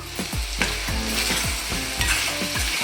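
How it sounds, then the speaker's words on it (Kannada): Chicken sizzling in a hot pan of tempering with turmeric while a spoon scrapes and stirs in a quick, regular rhythm, close and continuous. "ಚೆನ್ನಾಗಿ ಅದ್ರ ಈ ಒಗ್ಗರಣೆನಲ್ಲೇ ಬೇಯಬೇಕದು ಚಿಕನ್ನು"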